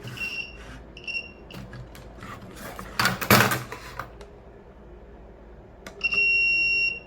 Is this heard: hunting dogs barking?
no